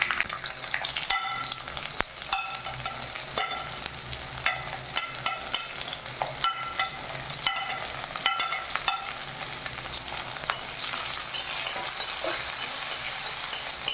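Shallots and green chillies frying in hot oil with mustard seeds for a jackfruit seed thoran, a steady close sizzle with regular stirring scrapes and spatula taps throughout, no voices.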